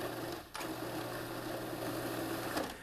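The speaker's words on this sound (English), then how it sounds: "I'll start by pulsing 4 slices of white bread in a food processor to make freshly" Food processor pulsing four slices of white bread into fresh breadcrumbs gives a steady whirring motor drone, broken by one short pause and a slight surge near the end, heard close and fairly quiet.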